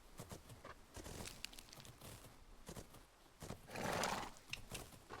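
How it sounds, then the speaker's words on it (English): Horses whinny and neigh in a horse-riding video game, with hoof clip-clops scattered throughout and a louder, longer neigh near the end, all fairly close and without talk. "We're having two horses we're going to have to train each day now."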